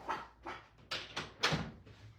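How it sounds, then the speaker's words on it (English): A small Pomeranian Yorkie mix dog gives a run of about six sharp, high yappy barks in quick succession, close and indoors, with no talk. "she's barking at something"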